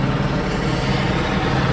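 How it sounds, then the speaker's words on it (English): Helicopter hovering overhead during a Los Angeles protest, a loud continuous low rotor rumble with steady broadband engine noise and no voices. "Can you hear the helicopter above me?"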